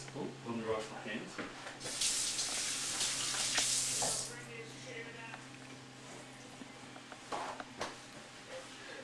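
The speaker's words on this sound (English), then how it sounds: "let me wash my hands" Water from a tap runs for about two seconds as hands are washed at a kitchen sink, a soft close hiss. Quiet kitchen handling sounds surround it and a person talks intermittently.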